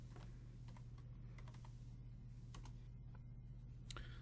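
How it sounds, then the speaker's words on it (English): Keys clatter on a computer keyboard in short bursts of typing, close and crisp over a steady low hum, with brief pauses between clusters of keystrokes. "But let's just type in salsa."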